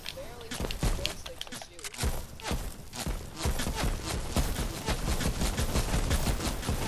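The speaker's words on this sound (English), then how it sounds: "Oh, they're shooting at me." Rapid bursts of gunfire in the Fortnite video game, sharp repeated shots and fusillades in quick succession, mixed with footstep-like clatter and an excited player talking over the action.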